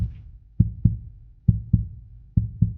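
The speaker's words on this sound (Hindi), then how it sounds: "उनके दिल जोर जोर से धड़कने" A heartbeat sound effect thumps loud and close in three paired lub-dub beats at a steady rhythm, with nothing else audible.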